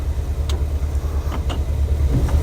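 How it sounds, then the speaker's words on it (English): Close, steady engine idle inside a car as it is shifted into gear, with a few faint clicks and clunks over the low rumble. "I'm going to push the brake in, and then I'm going to put it in the gear."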